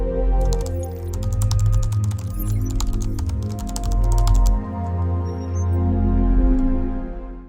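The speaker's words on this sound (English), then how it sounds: "You can also hear the typing sounds and some ambient music in the background." Rapid keyboard typing in quick bursts of clicks, fairly close, over a steady low musical drone in the background.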